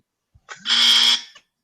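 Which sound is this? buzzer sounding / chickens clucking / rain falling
buzzer sounding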